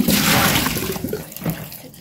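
Water gushing from a tap while dried tofu skin is washed, a loud splashing rush that tapers off with a couple of drips and splashes near the end.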